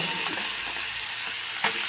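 Tomatoes drop into a hot frying pan for a small-fish curry, producing a loud continuous sizzle and hiss throughout, with a short stirring clatter near the end.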